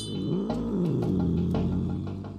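A cat in a drama scene meows in a long, drawn-out, distressed wail with a wavering pitch, loud and close, with a low rumbling undertone and no talking.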